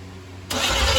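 A 1978 GMC with a fuel pump problem cranking and trying to start, steady low churning that surges into a louder, rougher engine roar halfway through, close and without speech.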